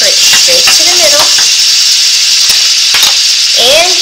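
A slice of meat sizzles loudly and steadily in a hot frying pan for a grilled cheese, with a continuous close hiss and occasional light scraping and stirring sounds.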